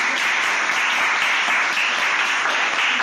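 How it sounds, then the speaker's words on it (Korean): A church congregation claps loudly and steadily during a sermon, filling the space with dense, sustained applause and no one talking. "하나님께 영광의 박수 돌립니다"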